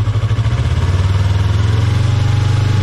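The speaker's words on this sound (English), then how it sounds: "Now when I start revving the throttle, I want you to look at my RPM band right here." A motorcycle engine running in neutral with the throttle held up, a loud, close, steady pulsing drone with a rapid regular beat and a slight rise in pitch toward the end.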